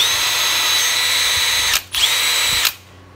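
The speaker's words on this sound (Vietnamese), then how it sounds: "Khoan lỗ tường 6 ly 8 ly thoải mái nha anh em" A Milwaukee M12 cordless drill bores a 6 to 8 mm hole into a wall, its close, steady high whine broken by two quick dips before it winds down and stops.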